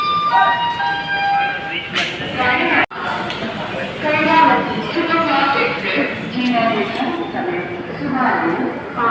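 A train rumbles and clanks at Ahmedabad Junction railway station, with a steady mechanical rattle and a sharp clunk partway through, heard beneath a person talking.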